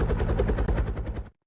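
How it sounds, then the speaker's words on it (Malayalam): Helicopter in a Roblox obby game, a rapid rotor chop pulsing steadily for just over a second before cutting off abruptly. "ഞാൻ അവിടെ ഹെലികോപ്റ്റർ ഓടിച്ചോണ്ട് പോണ്ട്"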